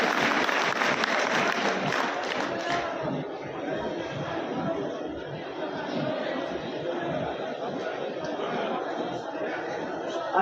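Crowd applause welcoming a guest at an Adivasi Day gathering in Harda, louder at first and then settling into softer, scattered clapping mixed with murmuring chatter and some laughter.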